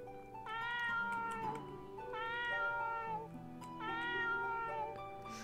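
A kitten meows three times in a horror RPG video game, each cry a drawn-out, tonal mew with a slight wavering rise and fall, clear and close against a quiet background.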